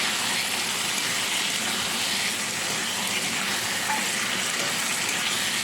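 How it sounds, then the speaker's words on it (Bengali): Fried eggplant pieces sauté in a pan, giving a steady, even sizzle with faint stirring, close by and uninterrupted, without any talk. "বেগুনগুলো দিয়ে ভালো করে কষিয়ে নিই"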